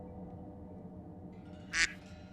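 A single short duck quack sounds near the end of a quiet stretch in the video game Hakuoki, over a faint low game ambience.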